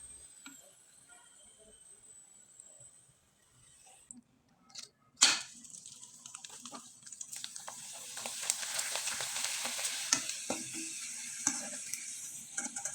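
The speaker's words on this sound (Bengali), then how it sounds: "এবার আমি কয়েকটা চিপস আপনাদের ভেজে দেখিয়ে দিচ্ছি" Homemade flour chips dropped into hot oil, quiet at first, then a sharp splash and a building, steady sizzle with crackles that grows louder and continues, no talking.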